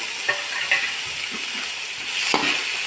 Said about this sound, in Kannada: ಈರುಳ್ಳಿ ಸ್ವಲ್ಪ ಫ್ರೈ ಆಗಬೇಕು. ಇದಕ್ಕೆ ಇವಾಗ ಟೊಮೆಟೊ ಹಾಕ್ತಾ ಇದ್ದೀನಿ ನಾನು.